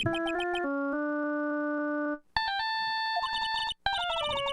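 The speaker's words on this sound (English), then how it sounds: "All of a sudden, the phone began to ring." Cell phone ringtone from the Phoenix Wright: Ace Attorney video game, a bright electronic melody of stepped tones that holds one long note, then resumes in two more quick melodic bursts with brief gaps, loud and clear with no talking.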